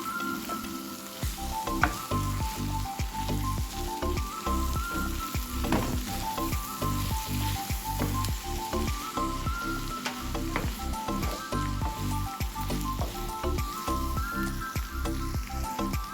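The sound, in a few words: stirring cluster beans fry in a pan, sizzling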